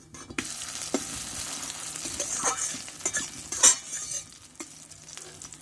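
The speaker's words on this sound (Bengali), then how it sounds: "দু পিঠ ভালোভাবে ভেজে নিয়েছি" A vegetable paratha, made from a batter, fries in a covered pan, giving a close continuous sizzle broken by scraping and stirring clatter and a couple of louder metallic knocks, with no voices.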